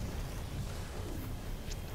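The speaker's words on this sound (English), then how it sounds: "Another steam" Steam venting from a vent in the video game Mass Effect 2 (Legendary Edition), a steady, broad, rushing hiss that holds evenly throughout with a faint rumble beneath.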